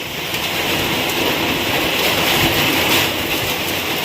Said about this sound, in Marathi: खूप मोठ्या प्रमाणावरती वारा चालू आहे आणि मुसळधार पाऊससुद्धा पडतो आहे